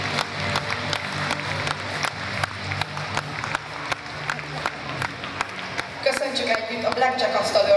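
Audience applause at a school freshman variety show, a steady patter of many hands with some voices mixed in, growing brighter and busier toward the end.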